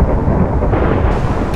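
Loud thunderstorm in the video game Minecraft, a dense continuous roar of thunder rumble and rain close up, filling the whole short clip without speech.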